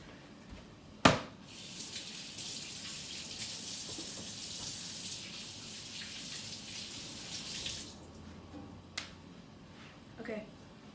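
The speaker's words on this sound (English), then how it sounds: "I'm going to wash my hands really quickly" A kitchen tap runs steadily for several seconds while hands are washed during tres leches cake preparation, a moderately close hiss beginning after a sharp knock and stopping before a couple of faint clicks.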